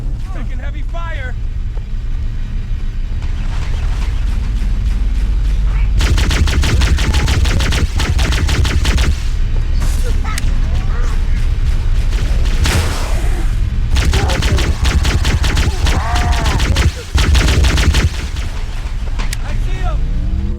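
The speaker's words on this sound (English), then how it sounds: "Taking heavy fire." Heavy gunfire in a Halo video game, sustained automatic bursts and booms, loud and dense, with voices calling out in between.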